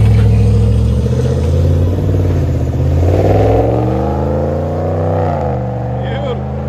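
A Ram Rebel 5.7L Hemi idles loudly and steadily, with a deep, even engine rumble that swells slightly as the revs rise, while someone talks over it.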